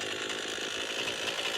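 An off-grid chainsaw engine runs with a steady, buzzing drone that stays at an even level throughout, with no talking over it.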